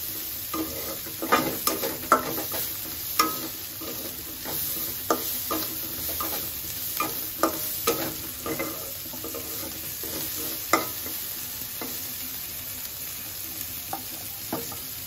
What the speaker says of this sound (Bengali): বন্ধুরা মাছ ভাজি হচ্ছে